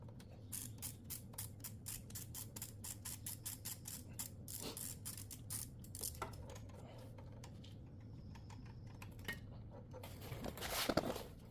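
Ratchet and short socket loosening a bolt on a small engine during a teardown for charging coil replacement, giving a fast run of close, regular clicks over a steady low hum, then a few scattered metallic taps and clunks.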